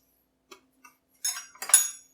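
Kitchen silverware clinks in a few light taps, then a bright jangling rattle of metal pieces knocking together up close in a quiet room.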